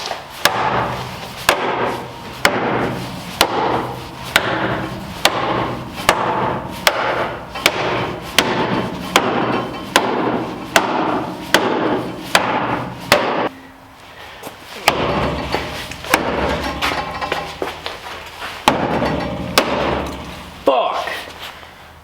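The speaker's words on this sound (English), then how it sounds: "This is the hammer I got. 4 pound. This should do it." Repeated heavy blows from a 4-pound hammer on a lifted Miata, struck about every second in a steady rhythm, loud and close, then a short pause before the strikes resume more irregularly.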